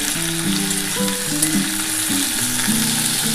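Potatoes and drumsticks frying in oil with panch phoron make a steady close sizzle throughout, with no talk, while a low tonal hum drifts and steps underneath.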